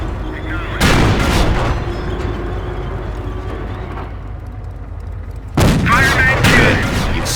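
Tank cannon shots striking a Panzer's armor in Company of Heroes, two heavy booming blasts with long rumbling tails separated by a quieter stretch of battle noise.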